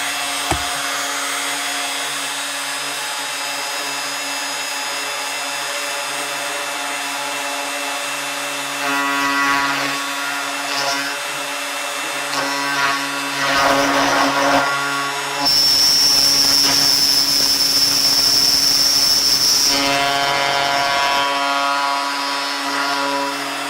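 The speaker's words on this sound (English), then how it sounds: "I'll use the keyhole bit with my plunge router" A plunge router fitted with a keyhole bit cuts into wood, a steady high motor whine that stays loud and continuous, roughening and intensifying midway as the bit bites, with no talking.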